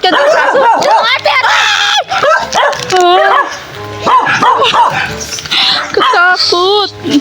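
A dog barks and yips repeatedly and loudly, close by, mixed in with excited human voices and shrieks.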